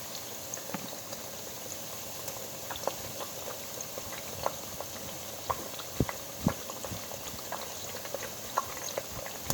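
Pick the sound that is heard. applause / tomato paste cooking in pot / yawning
tomato paste cooking in pot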